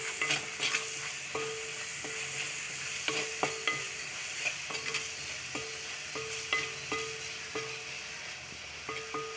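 Onions cooking with salt in a pan for green chicken curry, a continuous soft sizzle broken by regular light metallic taps and scrapes of a stirring spoon, close and moderate in level, no voices.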